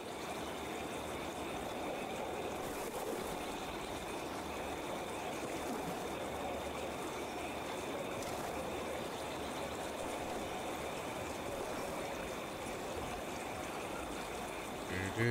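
River water flows in the video game Riversiders, a soft, steady stream-like rush and trickle that stays constant and fairly faint throughout, with no talking.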